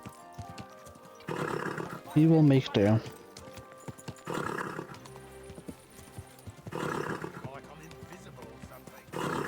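A horse in the video game Kingdom Come: Deliverance 2 neighs loudly in a rising whinny, with hoofbeats and game-like background sounds around it; someone speaks briefly over it.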